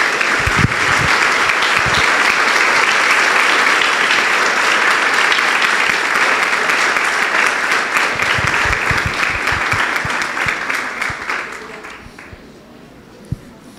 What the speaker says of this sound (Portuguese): desse uma calorosa salva de palmas a esses homens e mulheres